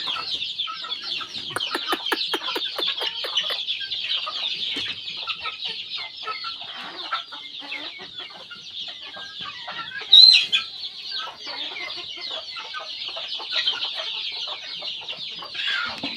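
A flock of chickens clucks steadily while pecking at gourd seeds. The soft, overlapping murmurs and occasional pecking taps run throughout, with one brief louder squawk midway and no voices.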